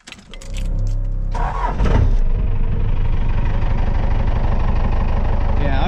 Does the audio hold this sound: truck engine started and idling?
yes